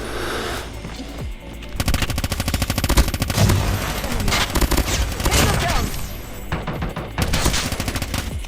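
Rapid automatic gunfire rattles in a Call of Duty Mobile ranked multiplayer match, loud sustained bursts with brief pauses, under occasional excited talk.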